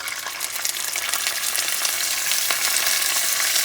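Sofrito sizzles loudly and steadily in hot annatto oil in a pan. The bright, dense frying hiss is close and continuous, and no one speaks.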